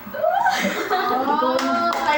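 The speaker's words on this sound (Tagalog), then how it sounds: "Palakpak!" A family claps together at a mother's 66th birthday celebration, short bright clapping alongside cheerful voices and laughter.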